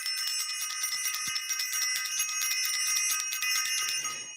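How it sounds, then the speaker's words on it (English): A bell rings loudly and continuously, its bright metallic tone with rapid repeated strikes filling the clip without pause, close and with no talking. "Let me ring the bell."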